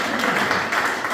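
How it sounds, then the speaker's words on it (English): An audience claps together in a dense, steady burst of applause, close and fairly loud throughout, with no pauses. "So go ahead and clap today"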